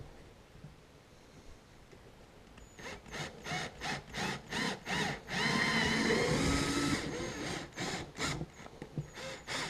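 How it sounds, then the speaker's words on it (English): Drill running in short repeated bursts and then a longer steady run as a pilot hole is bored through a motorcycle saddlebag, a close, fairly loud ratcheting whir with no talking. "I'm going to go ahead and just do my pilot hole again straight through here"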